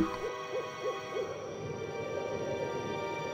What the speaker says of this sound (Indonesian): Suara burung hantu mulai terdengar jarang-jarang.